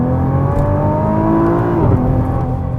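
A Nissan GT-R 50th Anniversary Edition engine drones steadily with a throaty intake roar, rising slightly in pitch as it revs, heard from inside the car.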